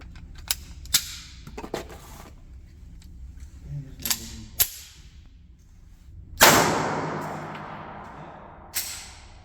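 Sharp gunshots from a Taurus Spectrum .380 pistol, several spaced reports fired one at a time at an outdoor range, with one loud close shot ringing out and decaying, plus fainter pops.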